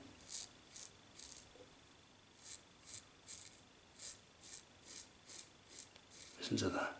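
A HIBCO double-edge razor shaves in short, rhythmic scraping strokes, about a dozen crisp rasps in close succession, faint and close, with a brief rustle near the end.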